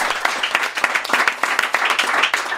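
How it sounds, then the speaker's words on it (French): A small live audience at a recorded Québec podcast event claps briskly and closely, a short burst of distinct overlapping hand claps with no talking over it. "On les applaudit."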